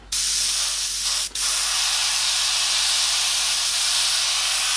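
An airbrush sprays paint over application tape on a moonlit ship painting, a loud continuous hiss broken by one brief pause near the start.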